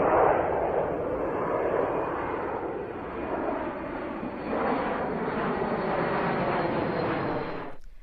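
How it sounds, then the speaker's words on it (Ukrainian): An airplane roars past with a steady, rumbling engine drone that swells and fades slightly, then cuts off abruptly. "Літак."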